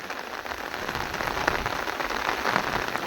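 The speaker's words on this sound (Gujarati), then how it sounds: "સવારનો વરસાદ ચાલુ છે" Steady rain patters down on a hard surface, a dense, even hiss of drops that holds at the same level throughout.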